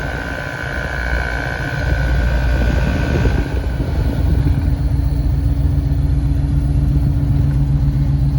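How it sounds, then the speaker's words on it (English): Inside a restored 1966 Ford Mustang with a 289 V8, the air-conditioning fan blows on high, a steady rushing hiss over a low engine hum, growing a little louder after the first couple of seconds. "Air conditioning is blowing. I can feel it."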